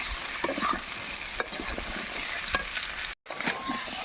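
Boiled mankachu (giant taro) pieces frying in hot oil give a steady, close sizzle, broken by a few scraping stirs and a brief dropout.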